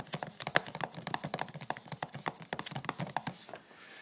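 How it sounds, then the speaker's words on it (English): Rapid clattering keystrokes on a laptop keyboard, loud and close, with an irregular run of sharp taps through most of the stretch before trailing off. "Listen to what happens when I'm just typing on my laptop."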